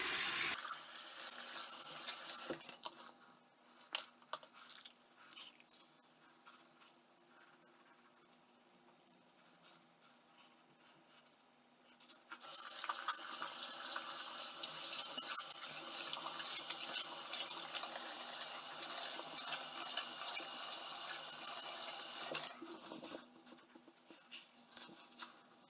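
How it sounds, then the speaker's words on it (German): Warm water runs from a tap into a sink in steady splashing bursts, the flow stopping for several seconds with faint handling sounds before resuming for a long stretch and cutting off again. "Mach mir warmes Wasser an."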